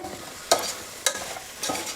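A spoon stirs mutton with masala, salt and turmeric in a hot pan, three separate scraping strokes about half a second apart over a soft steady sizzle, close and fairly quiet, with no talking.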